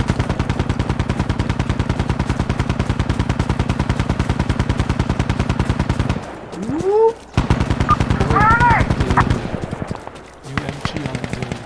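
Sustained automatic machine-gun fire in the tactical shooter Insurgency: Sandstorm, a loud rapid rhythmic burst lasting about six seconds, then more shots mixed with voices and radio chatter.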